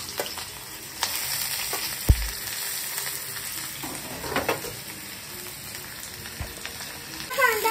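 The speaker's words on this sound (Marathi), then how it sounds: "आपण कढईत घेतला आहे तेल। तर आपण त्यात टाकणार आहोत कांदा" Onion fries in oil in a kadhai, a continuous close sizzle with occasional stirring scrapes and a sharp knock of the spoon against the pan, no voices.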